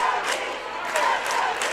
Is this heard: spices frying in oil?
no